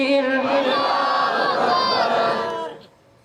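A large crowd at a live religious gathering shouts Allahu Akbar together in answer to a takbir call, a dense sustained roar of many voices lasting under three seconds before cutting off.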